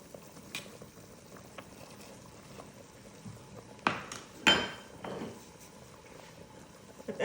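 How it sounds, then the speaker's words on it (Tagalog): Water boiling in a pot on the stove before oats go in, a low steady bubbling hiss with a few louder clatters of the pot; close, and no one speaks. "Pakukuluan ko siya ng 15 minutes."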